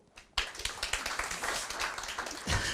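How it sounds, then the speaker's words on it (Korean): Applause from an audience at a real estate brokerage seminar, a sudden burst of many hands clapping that stays dense and steady for a couple of seconds, fairly close. "박수"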